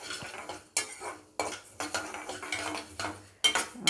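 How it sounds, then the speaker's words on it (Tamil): Coriander seeds dry roasting in an empty kadai, stirred with a metal spoon: irregular scraping clinks and taps against the pan, close and fairly quiet, with a soft rattling of seeds between strokes. "வெறும் கடாயில் தான் அப்படியே ட்ரை ரோஸ்ட் பண்ணணும்."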